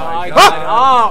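A pet dog gives a short, loud yip and a drawn-out whining bark close by during a fighting-game match, with people exclaiming over it.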